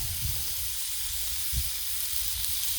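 Ground beef sizzling on a Blackstone griddle, a steady, close hiss with a couple of low soft thumps from handling the meat, and no voices.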